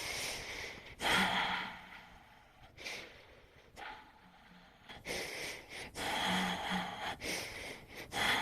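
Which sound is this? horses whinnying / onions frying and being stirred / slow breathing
slow breathing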